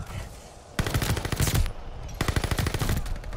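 Machine gun fire in Call of Duty Vanguard: two loud rapid bursts, the first about a second long, the second slightly shorter, after a quiet stretch.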